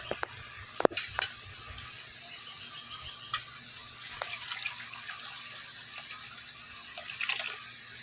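Boiled dal poured into a hot pan for Bengali raw mango sour dal, sizzling and hissing steadily with a few sharp clinks and splashes, no voices.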